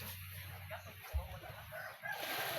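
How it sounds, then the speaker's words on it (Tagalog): A white pet chicken clucks briefly close by, low and short, against steady outdoor background noise with a faint hiss. "Ito naman yung alaga namin manok na puti."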